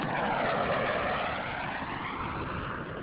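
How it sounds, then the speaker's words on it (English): Space Shuttle Atlantis rolls out on runway 33 at Kennedy Space Center after landing with its drag chute deployed, producing a steady, loud broadband roar of rushing air and rumble that eases slightly over the few seconds, with no talking. "Atlantis rolling out on runway 33 at the Kennedy Space Center"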